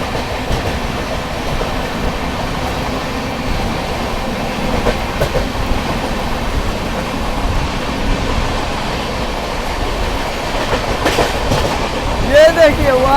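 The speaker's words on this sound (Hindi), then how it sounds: "और इधर देखते कौन सी ट्रेन है भाई ये।" Seen from aboard the Gomti Express, a passing train makes a loud continuous rumble with rhythmic clickety-clack of wheels over rail joints, with a rising rattle near the end.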